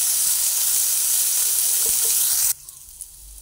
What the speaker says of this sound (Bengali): চালটা দিয়ে চালটা অল্প ভেজে নিচ্ছি।